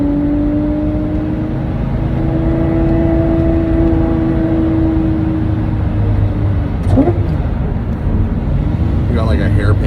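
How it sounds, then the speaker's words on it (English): A V12 car engine holds a steady, high-pitched whine while cruising toward a hairpin corner, the tone sliding slightly as revs shift; a voice speaks briefly near the end. "this car sure does sound good, doesn't it? That V12. It's got that high-pitched whine."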